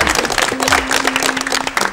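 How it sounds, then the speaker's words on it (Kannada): Studio audience applause on a Kannada TV film quiz show, greeting a correct answer: dense, steady clapping fills the whole stretch with no speech, a faint sustained tone running beneath it. "ಸರ್ ಚಪ್ಪಾಳೆ ಹೊಡೆದ್ಮೇಲೆ ಕರೆಕ್ಟ್ ಆಗಿದೆ ಅಂತ ಅರ್ಥ."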